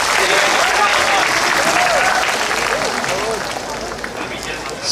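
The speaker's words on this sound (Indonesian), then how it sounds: "Tepuk tangan untuk Blitar Kabupaten." A festival crowd at Festival Kresnayana in Blitar claps loudly and continuously for Blitar Regency, with some cheering voices and murmuring mixed into the applause.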